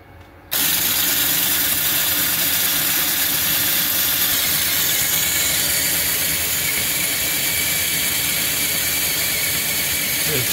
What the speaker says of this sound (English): Now we'll run the machine and see if we can get the torpedo to move forward.